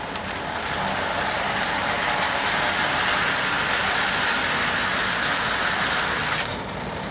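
An O scale model train runs on its own with nobody at the controls, giving a steady, continuous rolling rumble and hiss that stays loud and even before easing off near the end.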